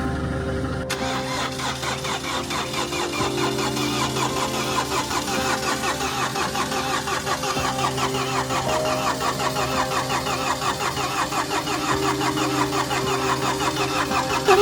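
A car engine cranks without catching, the starter motor whirring in a fast steady rhythmic churn that runs continuously for over ten seconds, close and fairly loud, with no talk over it.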